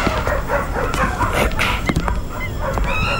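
Barking from a dog, loud and close in short rough bursts mixed with honk-like yelps over a busy noisy background.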